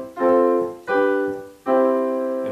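Three sustained harmonic chords in a row on the first, fourth and fifth degrees, a consonant pop progression, each chord struck and left ringing for under a second with short gaps between, loud and alone.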